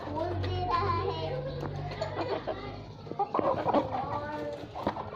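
Rooster and hens cluck and call around a backyard spot near a generator, with a low steady hum underneath and a voice talking over the birds.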